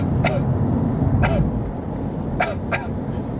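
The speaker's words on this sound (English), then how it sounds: "doing that, and just little coughs like" Several short, soft coughs, four brief bursts spread across a few seconds, heard close over a steady low background rumble.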